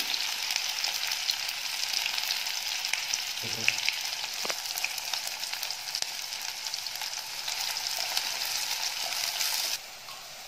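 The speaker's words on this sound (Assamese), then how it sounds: "পিঁয়াজখিনি অলপ ৰঙচুৱা হোৱাকৈ ভাজিম" Steady crackling sizzle of onions frying in hot oil in a wok, with a couple of brief clinks partway through before the sizzle drops off at the end.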